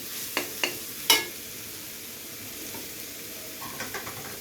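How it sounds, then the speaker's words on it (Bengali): Ginger, garlic and onions frying in oil, a soft steady sizzle with a few sharp spatula clicks near the start and light scraping toward the end. "এবারে আদা আর রসুনটাকে পেঁয়াজের সাথে খুব ভেজে নিতে হবে ভালো করে।"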